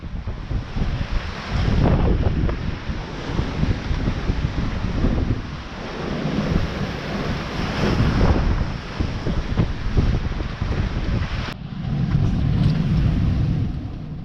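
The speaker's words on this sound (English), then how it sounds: "You can see here the wind's really picked up, 20 to 22 knots on the beam" Strong wind buffets a sailboat at sea, blowing 20 to 22 knots on the beam with occasional higher gusts, roaring steadily against the microphone over the wash and surf of waves along the hull, loud and continuous throughout.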